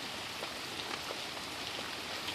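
Light autumn drizzle falls steadily, a soft continuous hiss of rain with scattered faint droplet ticks, close by and alone without voices.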